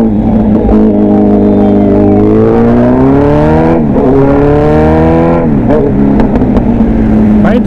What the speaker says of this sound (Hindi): भाई थ्रॉटल बॉडी क्लीन होते हैं ना बाइक और भी ज़्यादा लाउड हो जाती है।